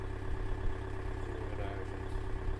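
A 52 horsepower Yanmar diesel boat engine idles in a steady, low rumbling drone with a faint even clatter, running continuously at moderate level with no talk over it.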